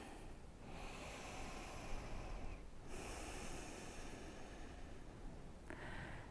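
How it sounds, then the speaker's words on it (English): Slow, deep breathing during a yoga stretch session, a long airy inhale and extended exhale heard close and steady with brief pauses between breaths. "finding a more expansive inhale where you really feel the belly rise, and a longer, slower exhale"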